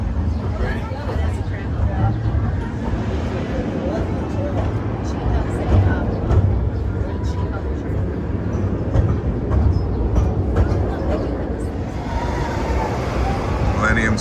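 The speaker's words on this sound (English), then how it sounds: "The cool thing about Cedar Point's train is it's an actual coal train." A coal-fired steam train at Cedar Point amusement park rumbles along steadily amid crowd chatter, a continuous low mechanical roar with people talking nearby.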